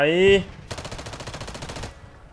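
Gunfire in Call of Duty: Warzone Mobile, a fast, even burst of automatic shots lasting over a second, loud and close, right after a brief bright electronic game sound.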